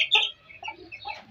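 A hen clucks in a few short, close bursts beside a chick, the calls uneven and fairly soft over faint low background noise, with no talk.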